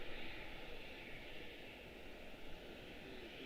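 A jet airliner on takeoff from runway 30 at Washington Dulles gives a steady, distant, faint engine roar that holds even throughout, with no voices.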